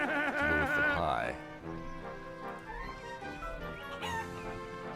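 A cartoon chicken in the Wallace & Gromit's Grand Adventures video game clucks and squawks loudly at first. Softer game sounds and music follow.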